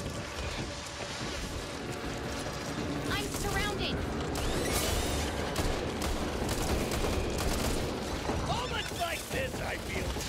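Dense, sustained gunfire into a swarm in the shooter game Back 4 Blood, rattling bursts layered over a busy mix of game noise and mechanical clatter, with players talking at times.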